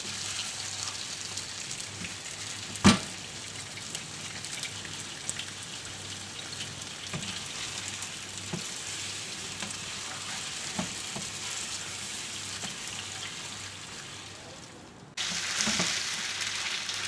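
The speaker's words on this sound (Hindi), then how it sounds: "चिकन प्याज और टमाटर के साथ पक रहा है।" Chicken with onion and tomato cooking in a pot for biryani, a steady soft sizzle like light rain with a single clink early on and the hiss swelling louder near the end.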